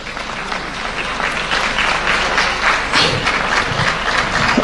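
Steady, loud applause from a large audience fills the space with a continuous wash of clapping hands, unbroken and even throughout.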